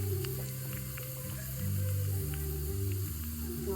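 Chillies and small shallots fry in oil as the tempering for a fish curry, a soft continuous sizzle heard up close, with steady low hum tones running underneath.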